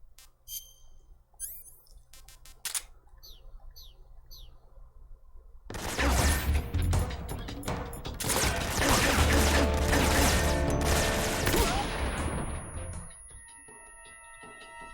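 Metal Gear Solid 3 game audio: chirping birds and small clicks, then a loud, sustained crashing burst of stun grenade blasts and gunfire that fills the second half before fading.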